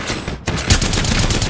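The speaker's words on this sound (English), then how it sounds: "Now I'm getting shot at." Loud, close bursts of rapid gunfire from an Apex Legends battle fill the moment, a dense crackling volley that breaks off briefly and then resumes in a continuous barrage.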